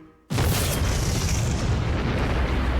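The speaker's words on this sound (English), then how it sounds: "Just as he put his shovel in, there was a delayed blast." A delayed dynamite blast inside a Hoover Dam construction tunnel erupts as a sudden, loud boom. A long, rumbling roar of debris and echo follows and continues to the end.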